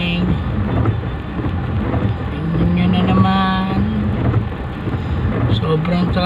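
Road traffic rumbles steadily with engine drone and passing vehicles. A low horn-like tone rises in the middle, and people talk over the traffic the whole time.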